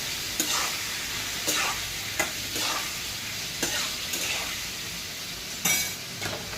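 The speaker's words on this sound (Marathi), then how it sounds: "आता ही आपण अशी परतवून घ्यायची चांगली." Prawn curry stir-fried in a pan sizzles loudly and steadily up close, with a spatula scraping and knocking against the pan every second or so.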